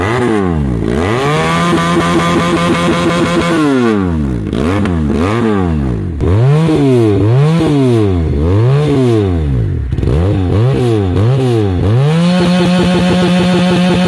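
A 400cc parallel-twin motorcycle engine revs repeatedly, climbing and falling in sharp, loud blips between steadier idle stretches, close up and alone with no talk.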